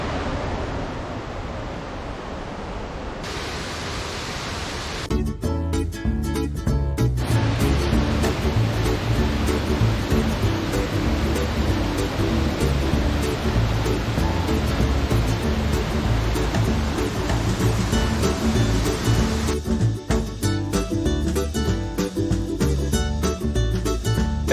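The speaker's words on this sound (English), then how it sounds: "Dry Creek Falls." Dry Creek Falls pours in the Sapphire Valley area of western North Carolina, a steady, dense roar of falling water that runs close and continuous with no break, with some wind buffeting the microphone near the start and again near the end.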